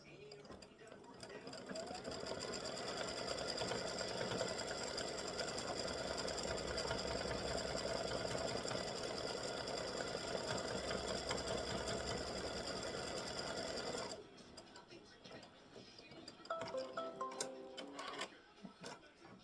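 Embroidery machine stitching a free-standing lace earring loop, a dense rapid mechanical whirr running steadily for most of the time, then stopping abruptly into quieter clicks and faint handling sounds.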